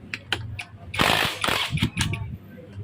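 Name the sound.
19mm socket wrench removing Kawasaki HD3 clutch housing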